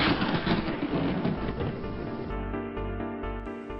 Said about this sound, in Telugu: అక్కడ ఒక పెద్ద మెరుపు వస్తుంది. దీనిని పిడుగు అంటారు.